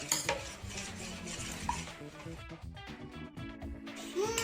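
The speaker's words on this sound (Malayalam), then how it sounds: "ഇനി ഇത് അടി പിടിക്കാതെ ഇളക്കിക്കൊണ്ടിരിക്കണം" A snack mixture made from leftover cooked rice is stirred in a pan, with close scraping and clinking of a utensil against the pan and a faint sizzle underneath, continuing steadily with no talking.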